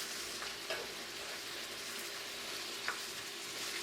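Bacon sizzles and fries quietly in a pot for Jamaican callaloo, a steady soft crackle with a few light stirring knocks, alone without speech.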